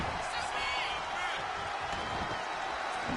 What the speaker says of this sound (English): And the crowd here in Stillwater saying fight forever.